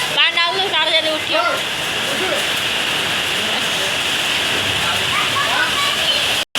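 Heavy rain with wind and hail pours down in a dense, steady roaring hiss, with voices talking briefly at the start and again near the end.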